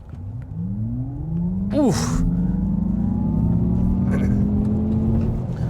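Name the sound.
2024 Acura ZDX Type S electric SUV accelerating from brake-torque launch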